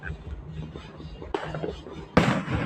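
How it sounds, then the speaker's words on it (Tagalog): Firecrackers and fireworks explode outdoors at New Year, two or three sharp bangs with crackling, the last one loudest and nearby, amid background noise. "paputok dito"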